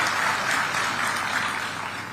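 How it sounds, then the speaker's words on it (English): Audience applause at a Kenyan gathering celebrating Raila Odinga's African Union Commission seat win, a steady dense wash of clapping held at even loudness through the whole short stretch, with no voices over it. "So I think that needs to be applauded."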